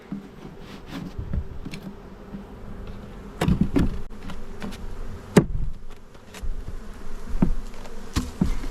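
Dense, steady buzzing from a honeybee swarm in a hive box close by, with scattered clicks and knocks of wood being handled over the drone.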